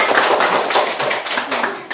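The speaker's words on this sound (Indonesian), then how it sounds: "Mari tepuk tangan." Hands clapping in a classroom, a quick run of sharp, close claps repeating steadily for a couple of seconds in a room with a little echo.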